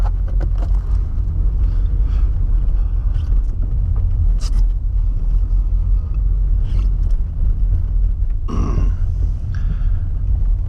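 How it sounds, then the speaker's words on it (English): A $500 VW Jetta with head gasket trouble rumbles along a rough alleyway, its engine a loud, continuous low drone with bumps and brief clunks over the uneven surface. "Alleyway's a little bit rough, so the car sounds worse than it actually is by a long shot."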